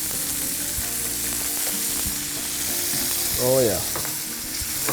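Chicken legs fry in hot olive oil with a steady, loud sizzle and crackle; a short voice exclamation and some clatter rise midway, over a continuous hiss.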